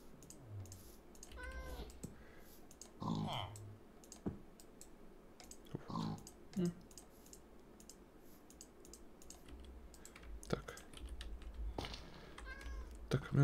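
A cat meows several times in Minecraft, short rising and falling mews spaced apart over quiet background clicks of keyboard typing.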